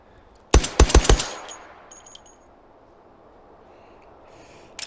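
A quick burst of about five loud gunshots in a dimly lit garage in the H3VR virtual reality game, each crack trailing into reverb before the space falls quiet, with a faint click at the end.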